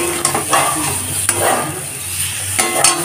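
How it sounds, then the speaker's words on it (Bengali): Spiced masala and eggs sizzle in a pan on a stove, a close, continuous frying hiss broken by quick stirring scrapes and clicks. "মশলাটাকে কষিয়ে নেওয়ার পর এখন ডিমগুলোকে দিয়েও কষে নেব।"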